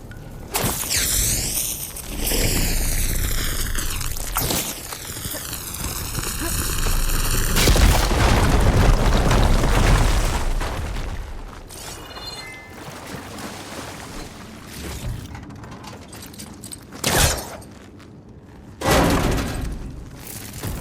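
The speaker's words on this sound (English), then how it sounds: "Should be able to blow up that fire gleam." A fire gleam deposit is blown up in Horizon Forbidden West: loud booming explosions and bursting debris crash over game music and ambience, followed by rumbling aftermath and a few sharper blasts later on.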